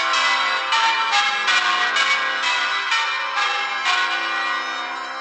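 Church bells at St Lawrence Church, Ipswich, ring out in a steady, rapid sequence of bright overlapping strikes, loud and close, with no voices.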